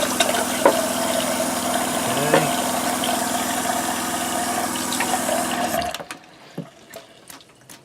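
Cold water runs steadily from a sink tap during RV de-winterization, a loud continuous splashing rush that cuts off abruptly near the end, leaving faint drips and small knocks.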